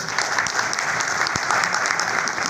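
Audience applause at a gathering of school principals, a dense, continuous clapping from many hands in a hall, sustained and fairly loud from start to finish.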